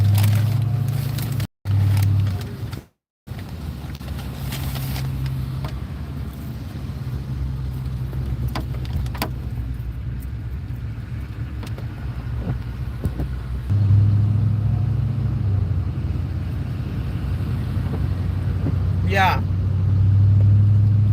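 Truck cruising down a road on a rainy day, with a steady low engine and road rumble throughout and a brief dropout early on; someone speaks briefly over the drone.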